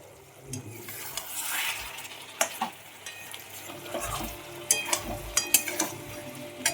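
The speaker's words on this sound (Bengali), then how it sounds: "চালটা যেন সুন্দর করে ঝরঝরা করে ভেজে নিচ্ছি" Rice for chicken tehari fries in a pan, a soft steady sizzle broken by scraping stirs and light clicks of a spatula against the metal, close up with no voices.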